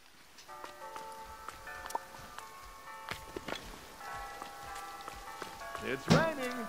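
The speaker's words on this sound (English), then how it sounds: "It's raining." Steady light rain pattering on the ground in the cozy life-sim video game Dreamlight Valley, a soft continuous patter under game music tones, with a brief sound effect near the end.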